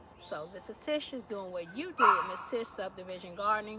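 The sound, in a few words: neighbor's dog barking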